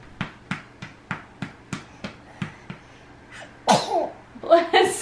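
A baby sneezes in a crib at night, a sudden breathy burst followed by a second smaller one, close by, after a series of soft, regular pats or taps.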